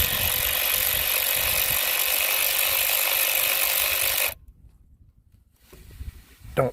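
Ratchet wrench with a 10mm socket loosening a purge valve solenoid on a GM supercharged 3800 Series III engine, a steady close clicking for about four seconds, then near silence with a few light knocks.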